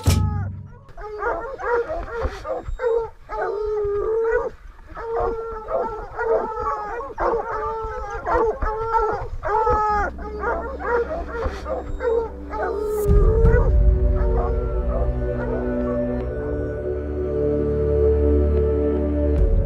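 A pack of hunting dogs bays, howls and yips at a mountain lion treed in Arizona country, with many overlapping voices close by in a continuous, excited chorus, switching to rougher, noisier baying and rustling toward the end.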